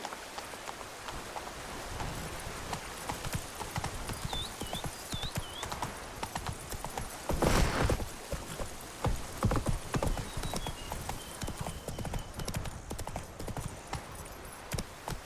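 Horse hooves clip-clop in a steady galloping rhythm in The Witcher 3, close and continuous over rain-like ambience, with a brief louder burst midway and faint bird-like chirps.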